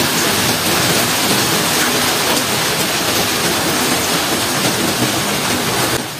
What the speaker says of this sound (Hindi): अभी तक बस हम ये तेज़ बारिश और ओले ही देख रहे थे।